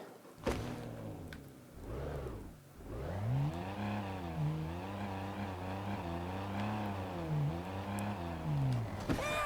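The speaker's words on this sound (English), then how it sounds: "So we'll go hop in the car." Car from the Disney Infinity 3.0 video game driving through a town, a steady engine drone with rising and falling revs and a thump near the start, loud and continuous with no talk.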